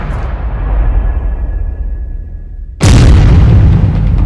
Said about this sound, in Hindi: हम आपको दिखाते हैं हूथी ने कैसे ग्रीस के तेल टैंकर को धमाके में उड़ाया